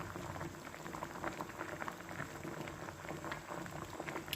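Apple murabba boils in a pot with a dense, steady bubbling and gentle popping, close and continuous throughout.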